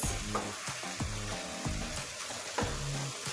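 Noodles frying in oil while being stirred, close sizzling with quick scraping strokes and light clatter against the pan, no one talking.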